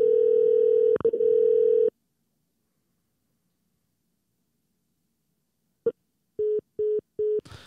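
A telephone line after a call is hung up: a steady tone holds for about two seconds, then silence, then a click and a string of short evenly spaced beeps, close and clear with no voices.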